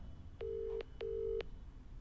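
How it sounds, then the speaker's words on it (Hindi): A phone ringback tone heard while a call is placed to a politician's number: two steady electronic rings, each about half a second, separated by a short gap, fairly clear over faint background hiss. "रिंग जा रहा है।"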